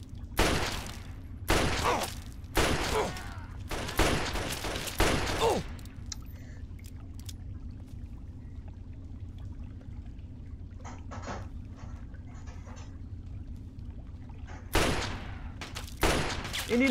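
Bursts of rapid gunfire from the video game Fallout 3, several loud clusters of shots early on, a long quieter stretch with faint clicks, then another loud burst near the end.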